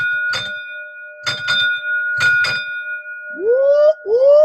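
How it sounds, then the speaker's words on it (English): A hand bell is rung in short bursts, single strikes and quick doubles with pauses between, followed by a couple of rising whoops. "I'm going to go crazy with the bell"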